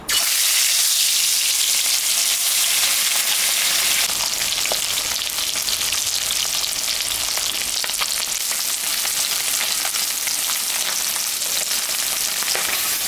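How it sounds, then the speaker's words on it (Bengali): Salted, turmeric-rubbed rohu fish pieces fry in hot oil with a loud, dense, continuous hiss that stays strong and close for the whole stretch, with faint bubbling crackle and no voices. "তেলটা গরম হয়ে গেছে আমি এখন মাছটা ভাজে নেব"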